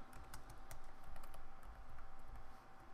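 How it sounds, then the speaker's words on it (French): Quiet, rapid tapping on a computer keyboard while entering title text in AutoCAD, irregular light keystrokes clustered in quick bursts over a low background hum, fairly close and faint. "je vais taper mon texte"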